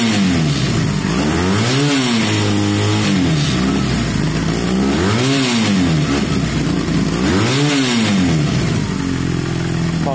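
A SYM XS 125 motorcycle engine revs up and down three times in slow, rising-and-falling sweeps, loud and close, with a clattery, slightly rough idle between the revs and no talking.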